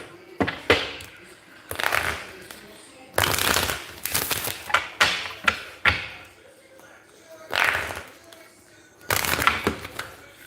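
Yes-or-no oracle cards shuffled by hand in bursts of riffling and tapping, with quiet pauses between, recorded close up.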